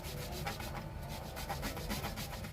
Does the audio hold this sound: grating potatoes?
yes